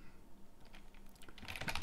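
Keys tapped on a computer keyboard, sparse soft clicks at first, then a quicker, louder burst of typing toward the end, close and with no talk.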